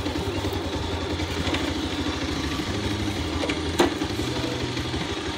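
A motorcycle engine runs at a steady, low putter, a continuous rhythmic throb heard nearby with one brief louder knock near the end.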